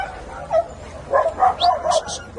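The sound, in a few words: dogs barking at an animal shelter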